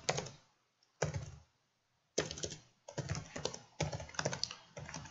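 Close computer keyboard typing in quick bursts of clattering keystrokes separated by short silent pauses, with no talk over it.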